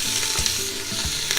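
Beef stew meat, 1.5 pounds, sizzling in hot olive oil in an Instant Pot: a steady, close frying hiss with a few stirring bumps, no voices.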